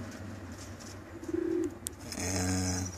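Homing pigeons, a cock and a hen, coo up close: soft, low throaty rolling coos come in two bursts over faint background noise, with a brief chirp between them.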